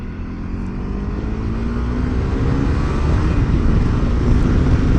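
A loud motorcycle engine drones steadily for several seconds, its pitch slowly rising, heard close up with no talking.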